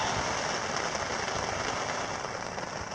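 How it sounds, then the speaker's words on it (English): A summer rain shower falls on a tent in the Boundary Waters wilderness, a steady, dense patter with no pauses, close and even throughout. "waiting out a rain shower."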